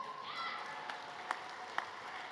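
Applause from the audience at the Doig Medal awards night, a steady wash of clapping with a few sharper claps standing out, heard fairly faintly and without anyone talking over it.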